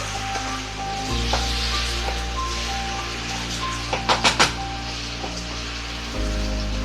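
Salted chicken pieces sizzle steadily in a hot pan while being stirred, with a few sharp scraping clacks of the spoon against the pan midway and a low hum of a kitchen fan underneath.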